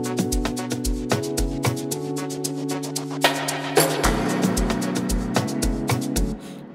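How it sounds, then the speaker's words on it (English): Dense Amapiano track produced in FL Studio with a riser sweeping upward over a thumping kick, log drum and chopped chords, loud and steady with a brief swell midway and a fade at the end. "so it's a riser"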